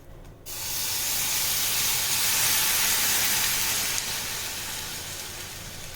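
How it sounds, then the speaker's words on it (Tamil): Water poured into a hot pan of roasted sago pearls sets off a loud, sustained steaming hiss that rises quickly after a brief quiet start and slowly fades. "இப்போ நம்ம இதை வேகிறதுக்கு தண்ணி ஊற்றிக்கலாம்."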